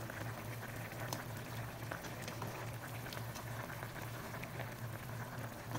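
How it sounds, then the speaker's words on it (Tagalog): Steady bubbling of sinigang na bangus, a milkfish soup, boiling in a pot, a continuous dense simmering patter with occasional louder pops, no voices. "pagkalipas ng 5 minuto, ayan, kumukulo na."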